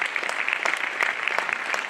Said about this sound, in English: A round of applause for all the speakers who spoke on the second debate.